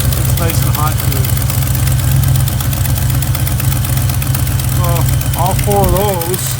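A 1976 Plymouth Gran Fury wagon engine idles steadily and loudly up close with a low, even rumble, while someone talks over it in short bursts.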